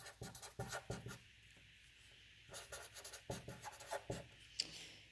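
Pen scratches across paper in short, quiet strokes, a close, soft scribbling that comes in irregular bursts with brief pauses between words.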